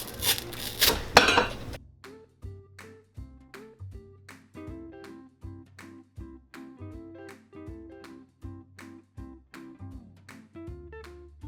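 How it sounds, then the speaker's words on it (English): Leather top lift torn from the heel of a John Lobb shoe, its glue pulling away from real leather fibers. A loud, rough ripping burst lasts under two seconds, followed by quiet plucked background music. "take that top lift off, and you can start to hear that ripping sound. That's the glue that's being pulled off those fibers of real leather."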